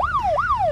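A toy police car and ambulance siren wails in quick rising-and-falling sweeps, about two full cycles, loud and close with no voices.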